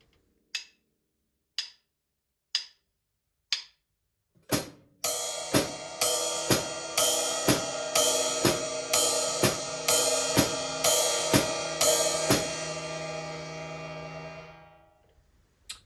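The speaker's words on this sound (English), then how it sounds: "it's going to play the ride cymbal on all the offbeat eighth notes" Drum kit pattern with hi-hat on the quarter notes and ride cymbal on the offbeat eighths, a few sparse count-in clicks first, then a steady, bright, evenly spaced groove that rings out at the end.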